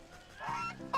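Goose honking in the video game Wytchwood, a short nasal honk rising over quiet game ambience, with a second brief honk near the end.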